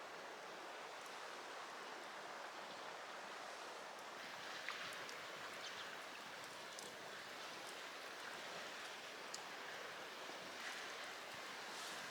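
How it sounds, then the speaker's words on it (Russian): Soft, continuous wash of small waves lapping on a taiga lake under a steady breeze, faint and distant, with no voices. "Смотри, там волна."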